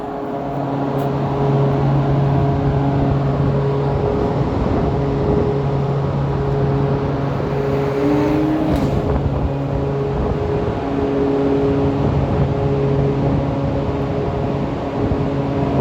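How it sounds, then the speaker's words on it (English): A metro train rolls along with a steady low rumble and humming motor tones, with a brief rising whine partway through. "if you're on a metro car, you can hear the same sound"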